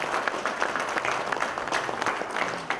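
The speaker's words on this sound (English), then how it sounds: "Let's have a round of applause," A conference crowd at a corporate customer day event breaks into applause, a dense, sustained patter of many hands clapping, loud and steady throughout.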